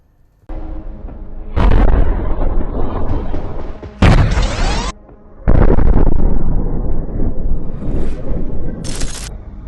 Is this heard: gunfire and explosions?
yes